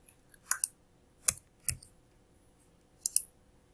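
Computer mouse clicks come in sparse, crisp pairs and singles, close and fairly quiet, with gaps of near silence between them.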